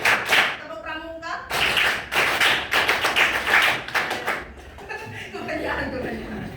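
Students in a classroom do a rhythmic scout clap (tepuk pramuka), bursts of patterned group clapping in quick sequences with laughter and chatter mixed in.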